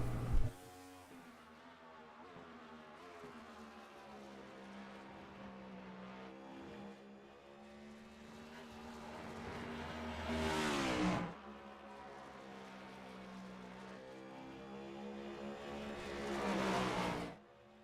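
Race cars lapping Watkins Glen in the sim racing game iRacing, a steady high engine drone rising and falling with shifts, with two louder revving swells as cars accelerate past, no talk.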